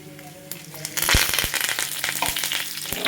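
Urad dal and curry leaves dropped into hot oil for a tempering burst into loud crackling sizzle, with sharp spitting pops over a dense frying hiss, close up and without talk.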